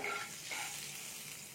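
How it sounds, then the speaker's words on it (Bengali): Cumin, asafoetida and fennel seeds frying in hot oil give a soft, steady sizzle with faint crackling, heard alone at low volume. "তেলেতে আমি ভালো করে ভেজে নিচ্ছি। হিং, মৌরি, জিরে পুরো ভালো করে ভাজা হলে একটা সেন্ট আসবে খুব সুন্দর।"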